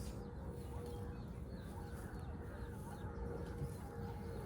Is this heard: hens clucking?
yes